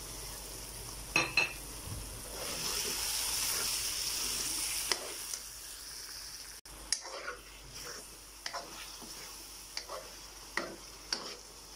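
Green chillies frying in a karahi pan for chicken karahi, a steady broad sizzle for several seconds followed by sparse clicks and taps of utensils against the pan, fairly faint and with no talk.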